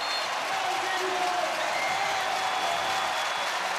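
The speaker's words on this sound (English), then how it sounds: "This crowd is insane." Dense, loud roar of a packed basketball arena crowd during a New Zealand Breakers versus Tasmania JackJumpers NBL playoff game, a steady wash of cheering and applause with no pauses.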